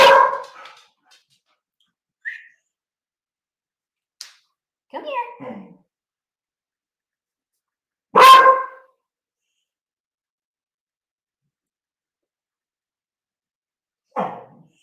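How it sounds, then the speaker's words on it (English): A small dog gives a few scattered, sharp barks and yips separated by long silent gaps, close to the microphone and fairly loud, with no talking. "She just has this super scary sounding bark that does not at all match her body language."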